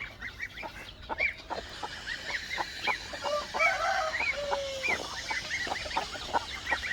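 Ducks and other farm fowl near water and mud on a farm, a busy stretch of quacking and honking calls, moderately distant and fairly quiet.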